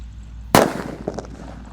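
A Colorful Thunder paper-wrapped firecracker goes off with one sharp, loud bang after a brief quiet hiss, followed by a scatter of faint crackles and debris patter as it dies away.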